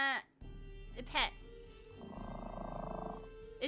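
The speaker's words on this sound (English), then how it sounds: "Is it good purring or bad purring?" A cat purrs in a modded Skyrim playthrough, a steady, rumbling purr that runs for about two seconds, with short bursts of a person's voice before and after.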